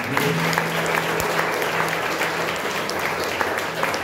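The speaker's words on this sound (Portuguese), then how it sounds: "Você pode dar uma salva de palmas ao Deus." A church congregation claps together in steady, dense applause at a Sunday morning service, a continuous close wash of hands with a faint voice beneath.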